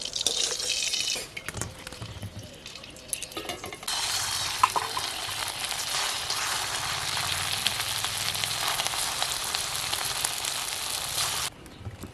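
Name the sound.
frying semolina sweets in oil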